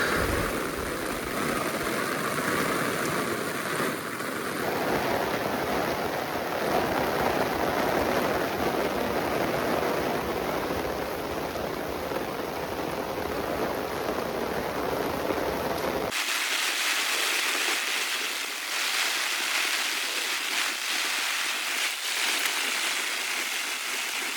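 Heavy rain in Sakleshpur pours as a steady, dense broadband hiss that lasts throughout, changing tone partway through without pause, with no voices.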